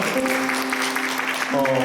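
Applause from a church congregation rises as members are welcomed at a Sunday service, a continuous clapping wash lasting the whole moment alongside a sustained tonal hum.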